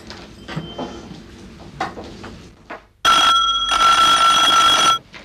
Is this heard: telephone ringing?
yes